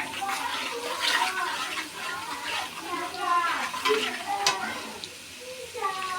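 Dried red chillies sizzle and crackle in hot oil for mango pickle, a steady frying hiss with stirring under a person talking throughout.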